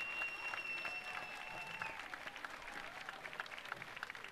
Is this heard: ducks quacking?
no